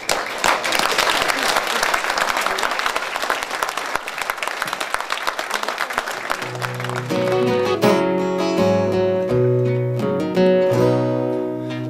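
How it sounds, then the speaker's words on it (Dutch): Audience applause at a benefit concert in De Westereen, dense clapping for about six seconds before fading as a band starts playing chords. "En ik wil eigenlijk wel een applaus voor hemzelf."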